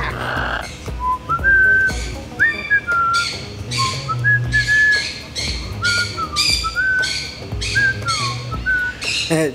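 A pet parrot whistles in a run of short, rising and sliding tones, loud and close, among household noise. Some chirps and squawks are mixed in.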